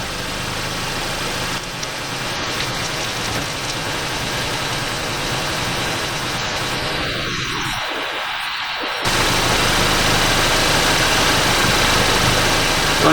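A VW Mk7 GTI with a DQ250 DSG gearbox idles steadily on a lift while transmission fluid drains, a constant mid-range engine hum that gets slightly louder in the final seconds.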